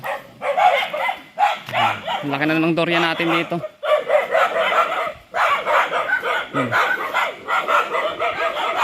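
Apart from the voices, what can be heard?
dogs barking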